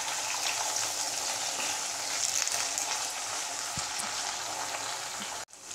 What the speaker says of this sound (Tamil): இப்போ பச்சை மிளகாய் ஓரளவுக்கு வதங்கியிருக்கு, ஸோ நம்ம வந்து வெங்காயம் போட்டுக்கலாம்.